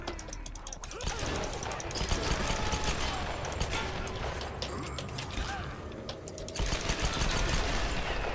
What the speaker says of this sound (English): you have a gun, Lara Croft. Shoot them! Dodge and shoot!